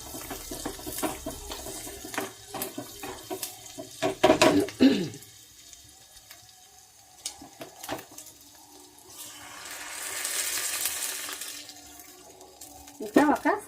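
A half glass of water is poured into a pot for a telagapindi recipe, making a brief rushing splash near the end, after a stretch of talking and light kitchen clatter.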